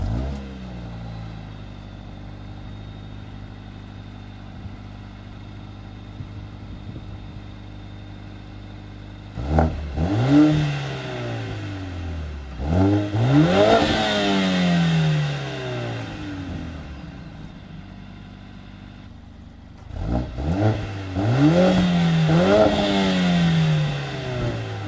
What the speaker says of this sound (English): this car has an AMG Sport performance exhaust. So let's go around back and take a listen to what it sounds like.